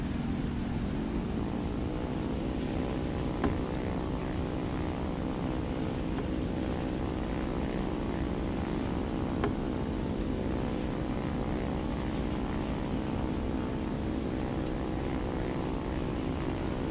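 Do 217 J-1 twin propeller aircraft engines in War Thunder, a steady loud droning hum with layered harmonics held throughout, a faint tick or two over it, no talk.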